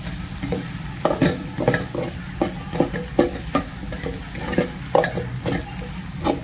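Curry cooking in a pan, with repeated stirring strokes scraping through it over a steady close sizzle of frying oil, the scrapes coming in an uneven rhythm about every half second.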